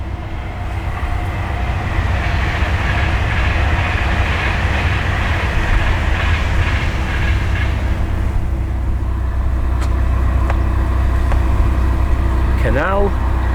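A train rumbles past nearby beside a canal and road, with steady low engine noise and rhythmic wheel clatter, loud and continuous over the whole stretch.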